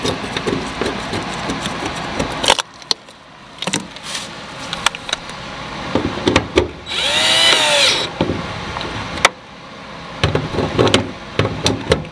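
Power drill driving screws during a fuel pump job on a 2014 Kia Forte, loud whirring bursts that start and stop, with a brief higher whine in the middle and clanks between runs.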